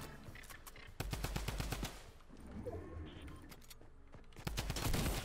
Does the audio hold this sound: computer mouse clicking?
no